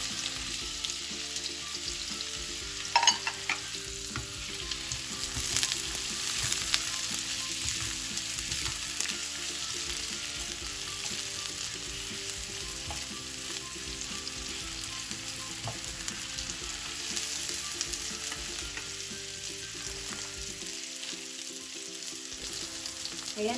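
Hotdogs frying in a pan, giving a steady, close crackling sizzle that runs unbroken for over twenty seconds, with faint clinks of stirring now and then.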